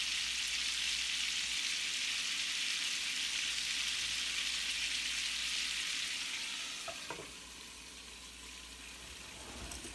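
Lamb chops with herbs frying in a covered pan, a strong, even sizzle that softens after a few seconds, with a couple of faint clunks near the end.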